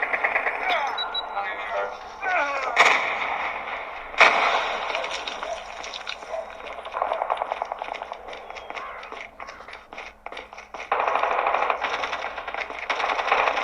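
Gunfire and a grenade blast in a mobile shooter game on a Samsung Galaxy Note 20 Ultra, sharp bursts and rattling shots amid game voice callouts, loud and close.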